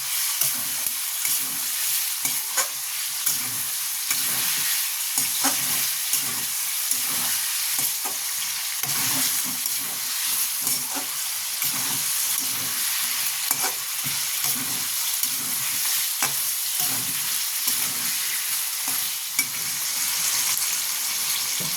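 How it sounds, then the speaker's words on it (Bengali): Chicken pieces with ginger paste sizzle steadily in a hot pan for chicken stew, with a spoon stirring in a regular rhythm, scraping and turning the food throughout at a moderate, close level. "আদা বাটা দিয়ে একটু ভালো মতন এটাকে কষবেন"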